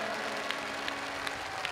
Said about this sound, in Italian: Fategli sentire l'applauso di questo splendido prato.